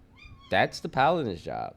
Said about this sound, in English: That's my cat trying to get my attention.